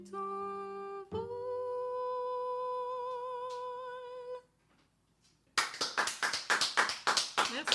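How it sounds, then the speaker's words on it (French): Studio applause after a song performance: a sustained sung or musical tone fades out, a brief near-silence follows, then a few people clap in sharp, uneven bursts close to the microphone. "Tu as les applaudissements de tout le studio."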